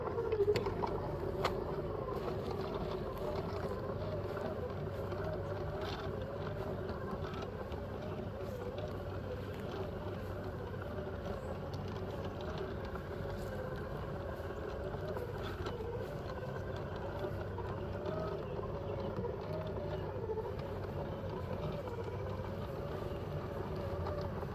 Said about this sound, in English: we're going to go ahead and start the Ryobi for self-propel on the lowest setting and see what that looks like